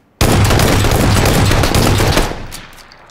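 Sustained burst of automatic gunfire in PUBG Battlegrounds, loud and rapid for about two seconds before trailing off into a fading echo, with no voices over it.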